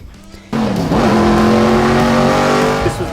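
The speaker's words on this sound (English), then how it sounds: "Daniel Ricciardo, who got to drive Dale Earnhardt's NASCAR car, now owned by Zach Brown obviously" Dale Earnhardt's NASCAR race car roars past loudly, its engine note rising and sliding in pitch with a brief tire squeal as it accelerates hard, filling the whole moment without any talk.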